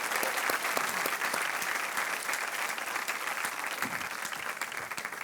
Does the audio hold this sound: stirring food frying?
no